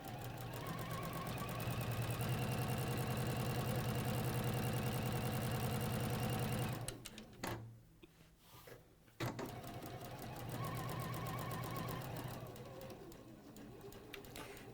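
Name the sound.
sewing machine stitching fabric for bag making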